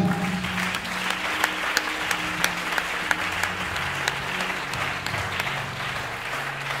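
A church congregation claps together to acclaim the Lord, a loud, dense, steady wash of applause filling the room with a few sharper claps standing out.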